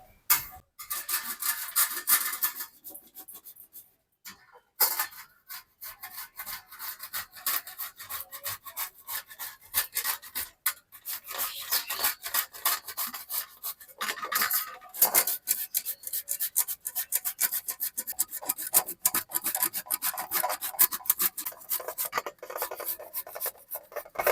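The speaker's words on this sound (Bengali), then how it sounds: "এখন আমি কচু ওই ঘষনির সাহায্যে ঘষে নেবো" Giant taro (mankochu) rasped against a hand grater, a steady scratchy scraping that repeats in quick strokes for most of the stretch, with a few short pauses and no talking.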